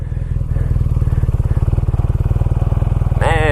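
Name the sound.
BMW R nineT Scrambler motorcycle accelerating in second gear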